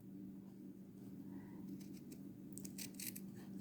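Quiet snipping of small scissors cutting fabric, a few soft crisp clips near the end over a low steady hum.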